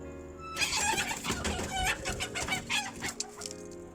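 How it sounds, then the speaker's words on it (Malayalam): Backyard chickens cluck loudly and continuously, with many close, overlapping calls and a few longer squawks. "ഞാൻ എൻ്റെ കോഴികളെ കാണിച്ചു തരാം."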